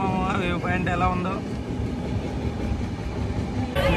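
A passenger train runs along rails near the Krishna River at Vijayawada, a steady broadband rumble continuing throughout, with a person talking briefly at the start.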